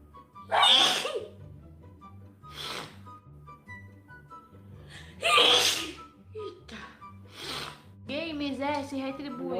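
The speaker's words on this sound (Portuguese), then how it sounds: "Eu só volto nessa live se tu parar de espirrar." Several loud sneezes erupt close to the microphone in quick succession during a live stream, separated by brief quieter gaps, with a voice or vocal sound rising at the end.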